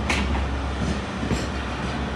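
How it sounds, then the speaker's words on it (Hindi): A GMC 15401 diesel locomotive hauling a passenger express picks up speed again after nearly stopping, a steady rumbling roll with faint wheel clatter heard from inside the train, continuous and moderately loud. "ऑलमोस्ट स्पीड डेड करने के बाद दोबारा से एक्सेलरेशन स्टार्ट कर दिया GMC"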